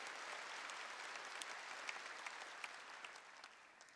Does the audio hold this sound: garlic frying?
no